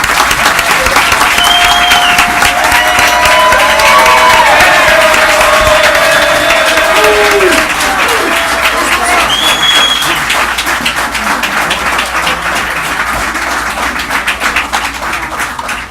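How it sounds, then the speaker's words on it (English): A meeting audience at a special commission session claps together, sustained dense applause lasting the whole stretch, with a few faint voices mixed in beneath it. "A little applause."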